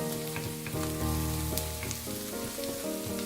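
Spices being stirred into chicken curry in a home pan, a close crackling sizzle under low heat with spoon scrapes and light knocks against the pan.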